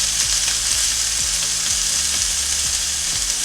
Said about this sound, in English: the fish is starting to get seared